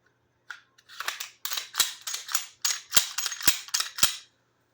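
SARS 9C pistol slide slid onto the frame rails, a close series of metallic scrapes and sharp clicks in irregular bursts, with no talking.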